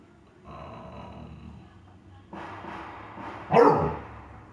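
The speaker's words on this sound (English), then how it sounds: "My dog reacting to somebody out there." A dog barks once loudly and close after a stretch of low rumbling and snuffling, with no talking.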